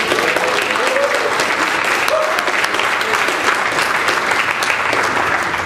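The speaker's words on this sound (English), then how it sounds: "Let's give them a round of applause" A conference audience claps in a loud, continuous round of applause filling the room, with steady dense clapping and a faint voice or two mixed in.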